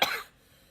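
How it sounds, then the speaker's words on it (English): A single short cough, close and fairly loud, fades quickly into quiet. "You coughed!"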